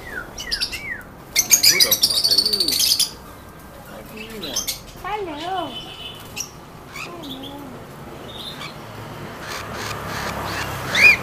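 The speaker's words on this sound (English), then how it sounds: "We're in a bird store." Birds in a bird store chirp and whistle in quick rising and falling calls, some shrill bursts close by, scattered over a busy indoor murmur with occasional voices in the background.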